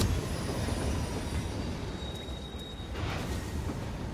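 Steady rumbling roar of a moving train in a video game, with faint wheel squeal and rail noise, continuous and moderately quiet throughout.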